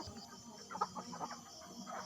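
Free-range village chickens cluck softly during feeding time, giving a few short, scattered clucks that are faint and fairly close, with no talk over them.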